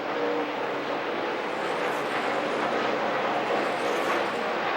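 NASCAR Sprint Cup cars roar on the track at Pocono, a dense, steady engine drone holding at constant loudness throughout with no distinct passes.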